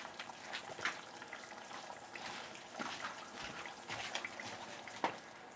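Taco meat simmering in a pan gives a faint, steady bubbling and soft sizzle with occasional pops, quiet and continuous with no speech.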